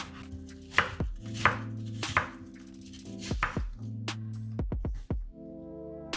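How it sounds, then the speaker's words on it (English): A cooking apple, a large Bramley, is chopped into small chunks on a board: about ten close, sharp knife strikes in irregular bursts, with background music underneath and no voices. "Peel the apple, then chop into small chunks."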